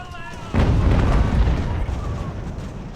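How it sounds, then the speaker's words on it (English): Cannon fire in the naval battle game Ultimate Admiral: Age of Sail. A loud, heavy boom hits about half a second in, then rolls into a sustained low rumble that slowly fades. "It's the cannon roar to life."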